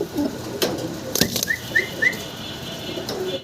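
A few quick bursts of pigeon wing flapping, with faint chirps and whistles from birds close by.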